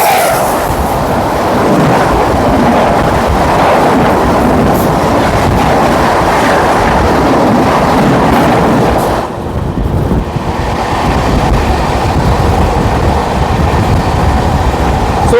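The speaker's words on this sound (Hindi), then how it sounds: "आ गई मर्यादा पुरुषोत्तम एक्सप्रेस 1202 पुरुषोत्तम एक्सप्रेस" Purushottam Express train arriving, a loud, continuous rumble of passenger rail cars with steady wheel clatter close by, briefly dipping midway before resuming.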